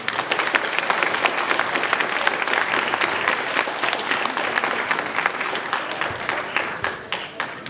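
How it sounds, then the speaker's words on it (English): Sustained audience applause fills a hall at a spelling bee championship for primary-level students, dense and steady clapping from many hands, with no talk over it, tapering slightly at the end. "Let's give them all a big round of applause."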